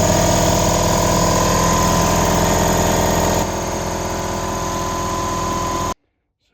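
A newly installed air compressor runs loudly and continuously, a dense steady mechanical drone that drops slightly in level partway through before cutting off abruptly into silence.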